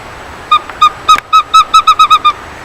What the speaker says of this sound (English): It's a western screech owl.